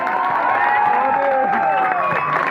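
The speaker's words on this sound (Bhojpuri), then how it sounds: "एक बार जोरदार ताली चारों तरफ से।" Crowd at a wedding celebration cheering and clapping steadily, a dense, loud wash of voices and applause with whoops rising over it throughout.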